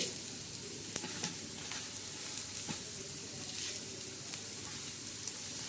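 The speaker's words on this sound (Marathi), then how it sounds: "कांदा टाकला आणि धने टाकले आणि त्याच्यावर हा खडा मसाला टाकलेला आहे" Onion, coriander seeds and whole spices fry in a pan for a Maharashtrian black masala, giving a continuous soft sizzle with scattered crackles and occasional sharp pops.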